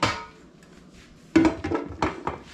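A knife chops a whole summer squash into small chunks on a board, with a few sharp, close knocks in irregular rhythm after a quiet start.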